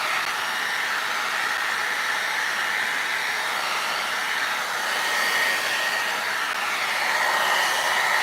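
A heat gun runs steadily at close range, a loud continuous blowing whoosh as it speed-dries a coat of Pentart water-based crackle medium, with no pauses and no voices.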